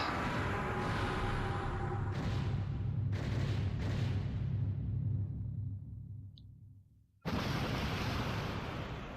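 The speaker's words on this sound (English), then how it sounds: "Did I mention this game has really satisfying explosions?" Explosions in the shoot-'em-up video game Einhander: a long roaring blast rumble with several booming bursts that fades to near silence, then a fresh loud explosion crashes back in.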